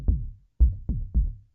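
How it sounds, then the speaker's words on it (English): Four punchy synthesized percussion hits from an Arturia MicroFreak synthesizer, each a deep thump with a quick decaying tail, the first one alone and then three in a quicker group, loud and dry with no voices. "Does some cool percussion."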